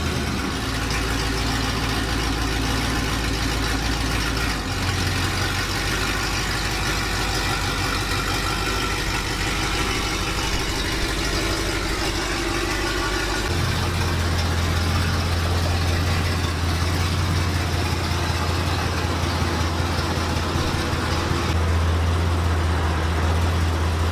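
A pickup truck, fresh from a posi and gear install, rumbles at a steady idle for the whole stretch, its low engine drone shifting pitch partway through as the revs settle.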